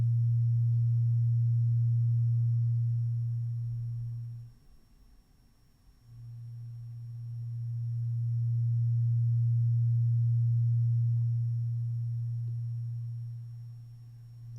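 Modular synthesizer sine wave whose amplitude is adjusted with an attenuator: a pure, steady low hum that swells and fades, dropping almost away for a moment before rising back to full level, with no voices.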